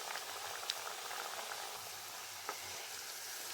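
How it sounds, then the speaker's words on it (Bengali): Chana dal pitha fry two at a time in hot oil, bubbling and sizzling steadily up close with a few faint clinks, and no voices. "দুটো দুটো করে পিঠা ভাজবো"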